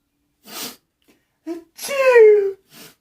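A person sneezing with a voiced, drawn-out cry, framed by short sniffs and breaths, close and loud, several separate bursts within a few seconds.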